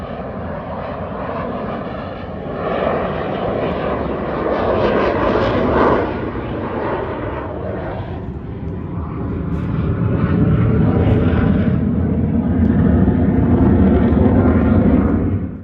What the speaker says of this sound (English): we've seen fighter jets flying over the campground and they are incredibly loud